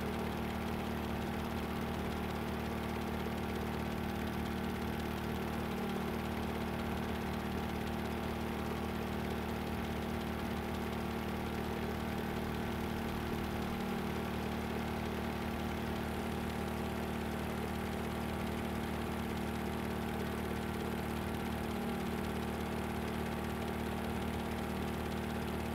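An aircraft engine in the Stormworks game drones at a steady, humming idle for a long stretch, continuous and quiet, with a few faint periodic thumps and no clear rise in revs.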